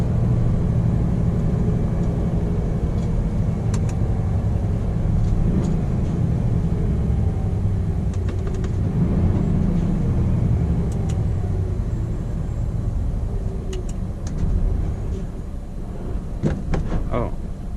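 A Scania P420 truck drives through Stockholm city streets on a cold November day, its steady low engine rumble close and continuous throughout, with faint knocks and rattles and some road noise rising toward the end.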